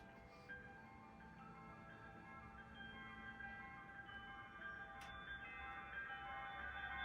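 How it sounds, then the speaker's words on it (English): A Bandai Proplica Legend of Zelda Master Sword prop plays its Tears of the Kingdom wish sound effect: faint, soft chiming melodic tones that swell gently and sustain throughout, with no talking. "you press your C button to hear the fulfilling Zelda's wish sound from Tears of the Kingdom."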